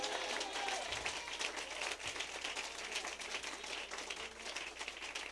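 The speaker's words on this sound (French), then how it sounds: "Donnez-moi une acclamation au Seigneur." A church congregation at a deliverance worship service claps and cheers in a sustained, fairly distant wash of applause with scattered louder claps.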